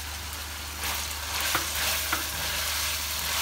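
Cabbage stir-frying with chicken in a pan for spaghetti, a steady broadband sizzle with a couple of sharp spatula knocks against the metal, close and continuous with no voices.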